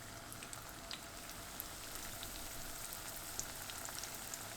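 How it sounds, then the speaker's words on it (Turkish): Pieces of pişi dough laid into a pan of fully heated oil give a soft, steady frying crackle with scattered small pops, faint and continuous throughout. "Yağım tamamen ısındıktan sonra pişilerimi tavaya diziyorum."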